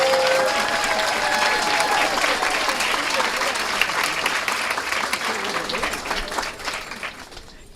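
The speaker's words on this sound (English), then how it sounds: "Please give them a big round of applause." A dedication ceremony and ribbon-cutting audience gives the VIPs a dense, sustained round of applause that holds steady for several seconds, then thins toward the end.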